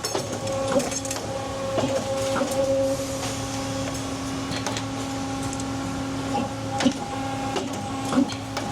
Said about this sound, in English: What is that machine? Putting an O-ring land on it, basically. Pressing an O-ring land on it.